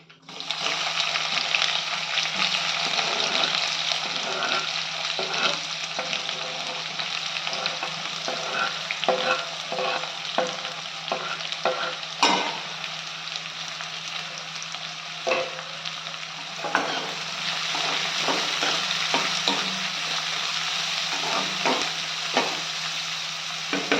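Onions sizzle steadily in a hot pan for ridge gourd curry, a continuous loud frying hiss broken by occasional scraping stirs, with no talking.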